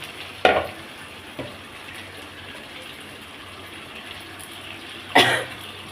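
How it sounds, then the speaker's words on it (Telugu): Raw chicken is added to a pan for a drumstick chicken curry, with a quiet background hiss broken by a few distinct sharp bursts of sizzling and scraping as pieces go in and are stirred. "ఇప్పుడు అందులో చికెన్ వేస్తున్నాను"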